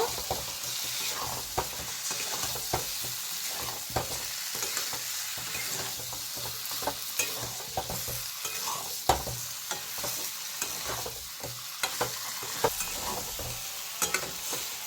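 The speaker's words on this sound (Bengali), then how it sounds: "গাঁটি কচু দিয়ে আমি ভালো করে কষাই নেব।" Taro pieces stir-fried in spiced oil with tomato, a steady close sizzle broken by frequent scraping strokes and knocks of the spatula on the pan.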